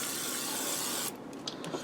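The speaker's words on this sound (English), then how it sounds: "Now I'm going to spray these down with some olive oil." Olive oil sprayed onto diced russet potatoes in a non-stick cast iron skillet: a steady, close hissing spray lasting about a second, then quieter faint sizzle with small ticks.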